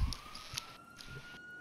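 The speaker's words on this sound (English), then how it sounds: "I hear a bunch of ambulances are aiding," Ambulance sirens in Grand Theft Auto V, a faint, steady electronic wail heard from a distance over low background noise.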